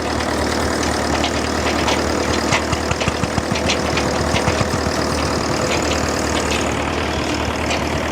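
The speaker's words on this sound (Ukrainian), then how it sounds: "Такий тракторець." A low, steady old tractor engine chugs and idles continuously at a vintage machinery show with field ploughing in Switzerland, rough knocking rhythm throughout, fairly loud and close.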